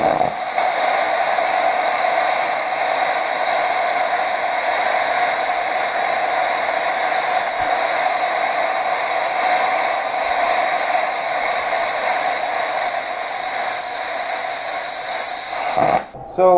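Chinese plasma cutter slicing quarter-inch steel, fed by an air compressor, producing a loud, continuous close hissing roar with a steady high tone until it stops abruptly at the end.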